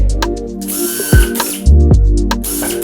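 A power drill whirs loudly in short bursts while drilling holes during a home renovation, its motor pitch rising and falling, with clicks and a couple of heavier thuds between runs.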